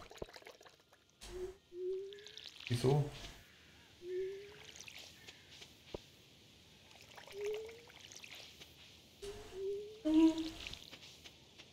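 Crops being watered in the farming video game Stardew Valley, heard as several short rising splash-like whooshes spaced a couple of seconds apart, with brief game sound effects and a voice in between.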